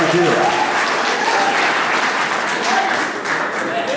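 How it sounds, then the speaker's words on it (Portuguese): Audience at a graduation ceremony for an HR and interpersonal relations course applauds loudly and continuously, a thick wash of clapping with voices mingled underneath. "Dá um aplauso pra ele, gente. Vamos aplaudir aqui."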